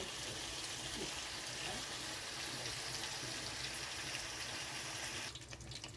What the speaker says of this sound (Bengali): এখন এটা খুব ভালোভাবে ফুটবে।